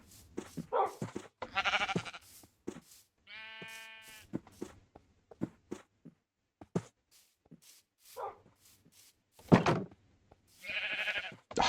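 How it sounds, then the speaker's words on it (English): Sheep in the Minecraft video game bleat in short, scattered cries, one longer tonal bleat standing out among quick clicks and game noises, fairly close with no talk. "Come on, sheepdog, do your thing. Herd the sheep."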